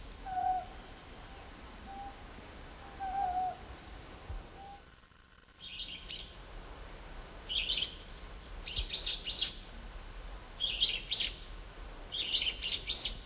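Several short, repeated hooting calls from a Lanyu scops owl in the daytime during mating season, followed by bursts of high chirping birdsong at a moderate distance.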